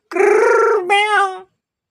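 A human voice imitates a cat's meow: two drawn-out, whiny mews in quick succession, close and clear, followed by silence.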